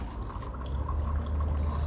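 Hot water running from a kitchen tap in a steady, faint stream for a couple of seconds, with no voices over it.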